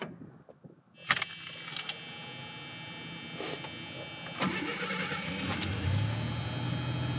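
A 1986 Ford Ranger SuperCab XLT engine catches after a quiet start and settles into a steady, close idle with some higher mechanical whine and a few clicks.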